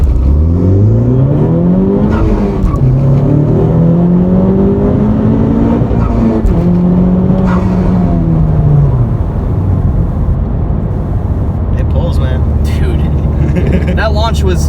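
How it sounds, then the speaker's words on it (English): A Honda Civic Type R launches hard and accelerates, its engine note rising and falling through several gear changes, loud and close throughout. "Can I launch the car?"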